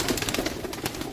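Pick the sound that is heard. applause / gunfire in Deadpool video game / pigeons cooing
pigeons cooing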